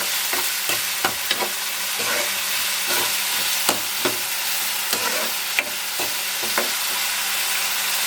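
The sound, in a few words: murrel fish curry frying and being stirred in a pan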